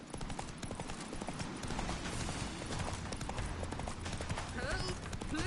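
Galloping horse hooves in The Witcher 3 video game, a fast steady clip-clop under game music and ambience while characters shout.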